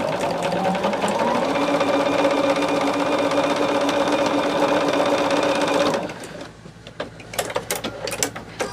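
A sewing machine runs steadily and loudly for about six seconds with a close, even whirring hum, then stops, leaving quiet handling clicks and taps.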